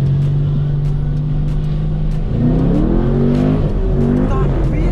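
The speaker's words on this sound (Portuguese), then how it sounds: "Mano, o carro tá brigando, Ti." Chevrolet Camaro drifting around a roundabout, its engine droning steadily and then revving and rising in pitch as the car fights for traction, loud and close, with a few faint voices in the background.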